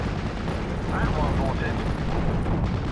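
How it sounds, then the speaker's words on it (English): Bombs dropped by a Typhoon aircraft in the Steel Division Normandy 44 war game explode in a dense, continuous barrage of booms and rumbling blasts, loud throughout, with a voice talking over it. "Bombs away from the Typhoon."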